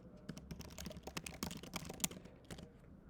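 Quick, irregular keystrokes rattle on a computer keyboard as search terms are entered, a steady run of close, crisp clicks with no talking.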